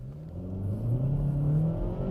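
A Hyundai Elantra GT N Line with a dual-clutch gearbox accelerating, engine note climbing steadily in pitch with a smooth shift, heard from inside the cabin at moderate volume, no talking.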